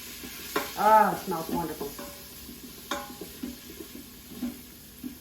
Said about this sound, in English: we're going to give that a quick stir